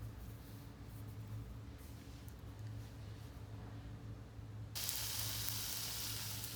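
Small banana fritters (pazham pori) frying in hot coconut oil, a faint soft bubbling that suddenly swells into a brighter, louder sizzle near the end.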